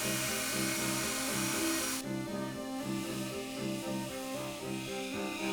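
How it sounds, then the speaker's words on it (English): An angle grinder works over a forged steel Viking spearhead, removing tack welds, giving a loud, continuous high-pitched whine with shifting harmonic tones as the load changes, close and alone without speech. "The grinding you are seeing here is also good for removing any of the remaining tack welds."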